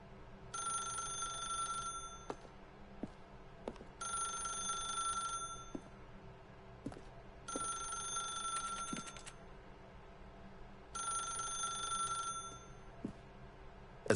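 Telephone bell ringing in The Stanley Parable, four clear repeated bursts of ringing separated by short pauses, fairly loud over a low background hum with occasional soft clicks.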